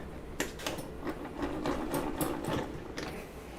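A table saw blade is cranked upward, giving a faint, close run of ratcheting mechanical clicks and whirring gear noise for a few seconds, with no voices.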